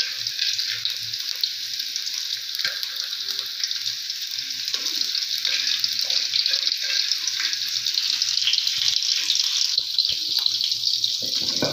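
Spices and tempeh sizzle steadily in a hot pan while a stir-fry of kembang gandul is cooked, with crackling frying noise and occasional stirring clatter, close and fairly quiet.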